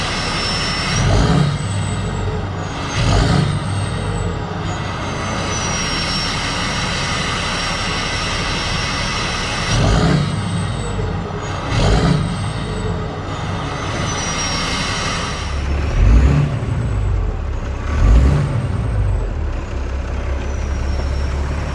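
A flatbed straight truck revved on new exhaust pipes, its engine roar swelling in several repeated bursts over a steady loud idle, heard close and with no talking.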